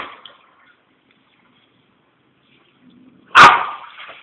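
A stuck dog gives a single loud, sharp bark near the end, preceded by a few faint, quiet sounds and near silence.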